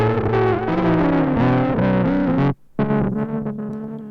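A distorted, wobbling lo-fi guitar tone through a Chase Bliss Generation Loss MK2 pedal with every knob cranked: a loud, thick, saturated chord that sags in pitch, cuts out for a moment, then comes back warbling.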